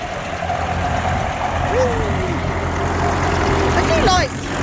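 A 70-year-old tractor engine idles steadily with a low, rough rumble, close by, while a faint tonal squeal drifts in partway through.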